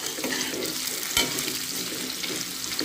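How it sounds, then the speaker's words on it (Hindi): Banda (taro root) vegetable being stir-fried in a pan gives a constant, fairly loud sizzle close by, with one sharp scrape of a spatula partway through and no speech. "अब इसी तरह से इसको तीन से चार मिनट तक भुनेंगे अच्छे से।"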